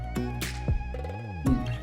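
A phone ringtone rings out unanswered in a domestic scene, a steady electronic melody repeating through the clip with a couple of louder bursts and no one speaking.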